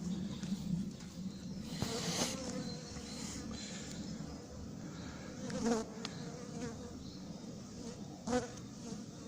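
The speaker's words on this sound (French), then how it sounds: "dans la ruche de gauche qui était en bas, il y a énormément d'abeilles" Honeybees from a crowded lower-left hive, one of several in a colony being split, keep up a steady, dense buzz throughout, with a few louder passes from individual bees close by.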